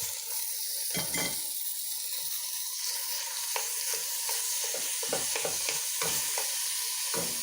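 Ground meat sizzles in a hot pan with browned onions for lasagna, stirred repeatedly so the steady frying hiss is broken by scraping strokes of the spoon, close and continuous with no talking.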